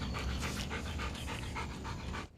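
A police dog pants in quick, rhythmic breaths, close and loud and steady for about two seconds before cutting off, with no speech.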